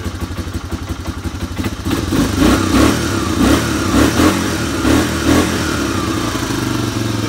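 A Honda Big Red 250 barn-find engine runs close and loud, a clattering, uneven idle that revs up in repeated rhythmic bursts before settling back to a steady rumble.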